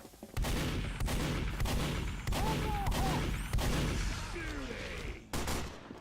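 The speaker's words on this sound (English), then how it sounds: "I keep hearing like all these snipers getting shots" Sniper rifle shots in a multiplayer shooter match, a run of sharp gunshot bursts spaced about every second over a rumbling game soundscape, with faint tonal effects between them.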